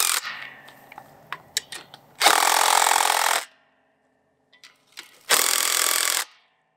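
A power tool drives ground anchors into earth for an automatic gate beside rammed earth pillars, with two loud, close bursts of steady grinding about a second long, separated by quiet, and faint clinks and handling noises before them.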